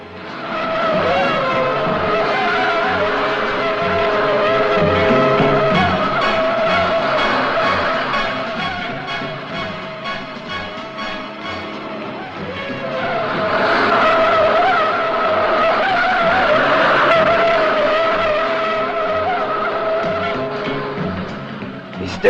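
Cars race and skid through a 1960s film chase, tires squealing loudly in long swelling bursts over revving engines, with a dip midway before another surge of screeching.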